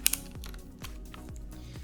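Keycaps pried off a Digital Alliance K1 Meca 2.7 RGB mechanical keyboard with hot-swap switches, a few sharp plastic clicks and scrapes spaced roughly half a second apart, close and clear.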